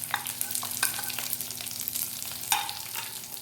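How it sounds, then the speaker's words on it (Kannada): Green chili, ginger paste and chopped onion fry in a pan, giving a steady close sizzle with repeated sharp scrapes and stirring clatters from a utensil, one louder scrape near the end. "ಇವೆಲ್ಲವನ್ನು ಸ್ವಲ್ಪ ಫ್ರೈ ಮಾಡಿಕೊಳ್ಬೇಕು"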